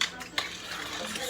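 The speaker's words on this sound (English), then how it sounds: "So I'm gonna stir this a little bit." A spoon clinks and scrapes against a pot of home-cooked Miami gumbo, with a couple of quick metallic taps over a steady cooking hiss.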